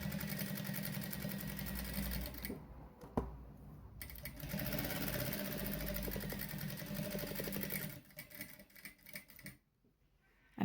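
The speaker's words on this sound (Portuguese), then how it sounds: "Nós vamos pespontar a gravata toda a volta da gravatinha." A sewing machine topstitches all the way around a small tie, its needle running in a fast steady patter with short stops and pauses near the end, fairly quiet and close.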